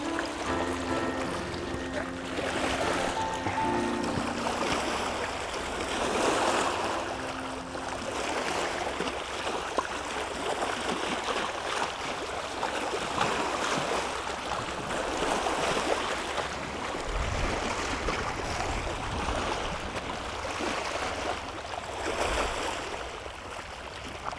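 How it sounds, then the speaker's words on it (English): Big waves from passing speedboats' wake wash and churn steadily, a continuous broad rushing of water that stays fairly loud throughout with no talking. "There's them big waves coming now from the speedboats."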